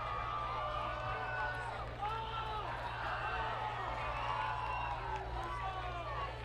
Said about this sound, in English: The crowd is making some noise.